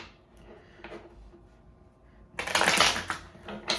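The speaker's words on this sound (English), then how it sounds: "Let's do 3 shuffles." Brisk tarot card shuffling: a few soft riffles and taps early on, then a louder, longer burst of cards flicking together close by, with no talking.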